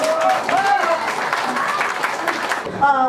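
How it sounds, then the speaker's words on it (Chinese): Applause at a Chinese community committee meeting in a New York clan association hall, a short burst of clapping from a seated group mixed with talk and a voice near the end. "我们掌声"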